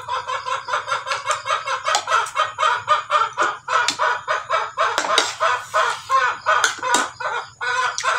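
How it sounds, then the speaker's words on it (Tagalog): A rooster crows repeatedly and loudly up close, with overlapping cackles and clucks from other chickens in a rapid, continuous chorus. "Maingay ang manok."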